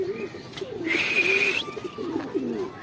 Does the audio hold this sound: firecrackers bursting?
no